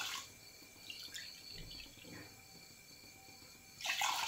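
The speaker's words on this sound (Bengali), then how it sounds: "2 বাটি জল দিয়ে দিচ্ছি।" Water poured into a cooking pot for a sugar syrup with cardamom, a soft trickling splash that runs for a few seconds before a louder gush of water at the end, close by with no talking.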